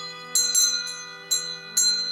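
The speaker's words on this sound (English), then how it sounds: "This is my traditional kind of school bell that you've seen before. So we'll ring that too." A traditional school hand bell rung in a sewing room, four or five bright metallic clangs at irregular intervals, each ringing on with a long sustained tone, loud and close with no voices.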